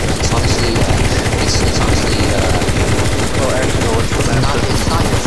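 Loud, rapid gunfire from players shooting zombies in a CS:GO zombie escape round on a cyberpunk map, an unbroken stream of close shots, with voices underneath.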